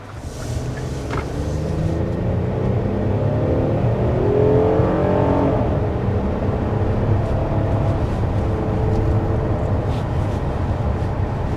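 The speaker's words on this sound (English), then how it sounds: "But first, let's start with hard acceleration." A 2024 Hyundai Palisade V6 engine pulls hard under acceleration uphill, a loud steady drone with pitch climbing through the gears, heard from inside the cabin with road noise.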